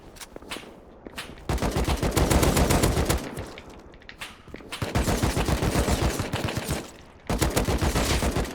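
Rapid bursts of automatic gunfire from a Rust video game firefight, dense and loud, in several long volleys separated by brief lulls.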